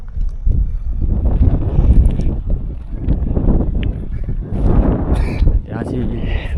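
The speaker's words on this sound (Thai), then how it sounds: "ลมพัดวีอยู่" Cold wind gusts sweep across a wind turbine site near the town of Dak Cheung in the evening, producing a loud, continuous low rumble that buffets the microphone throughout.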